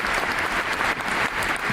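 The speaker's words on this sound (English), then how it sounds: "Keep that applause going for the Goths." A large theater crowd keeps applauding the Goths cast at a Titus Andronicus curtain call, producing a thick, continuous wash of clapping that stays loud and steady with no break.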